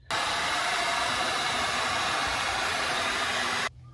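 A heat gun blows on a coiled oil drain hose meant for a Fumoto oil drain valve on a Jeep Grand Cherokee, giving a loud, steady hissing roar that starts abruptly and cuts off just before the end.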